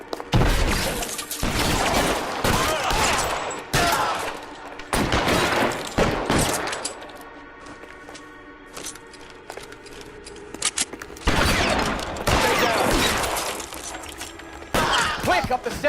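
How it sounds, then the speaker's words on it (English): A shootout in the video game L.A. Noire, with loud bursts of rapid gunfire in several volleys separated by quieter gaps, and voices in between. "I think we've got a shooting or 2 to take care of"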